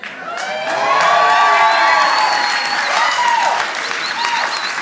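A crowd applauds and cheers, a dense wash of clapping that swells in the first seconds and holds loud and steady, with scattered shouts on top.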